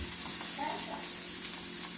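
Chicken and onions sizzle steadily in an oiled skillet, a soft continuous hiss with faint stirring scrapes, fairly quiet and close.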